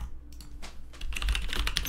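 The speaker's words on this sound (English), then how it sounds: "I need to put this on my keyboard" Rapid clatter of keys on a computer keyboard, close and steady, a burst of typing with no voices.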